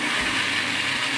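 A blender runs steadily, whirring as it beats cassava dough with condensed milk into a smooth batter; a continuous, loud motor drone with no talking.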